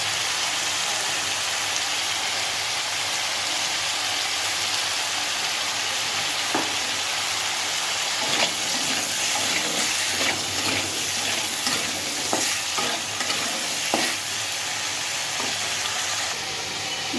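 Potatoes fried with dried red chillies in a little oil make a steady, close hiss and crackle of frying. Occasional soft clicks and scrapes of stirring sound over it, with no talking.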